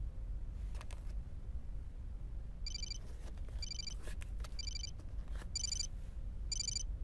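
A telephone rings in the Xenosaga Episode I video game, five short electronic trilling bursts repeating at a steady pace over a low game ambience.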